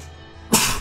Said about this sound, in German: Da musste ich jetzt niesen.